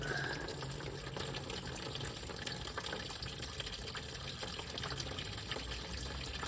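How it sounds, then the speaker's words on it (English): Coolant water drains steadily out of a Triumph Stag engine during engine and gearbox removal, a continuous close trickling and splashing flow heard on its own. "So the water's coming out nicely."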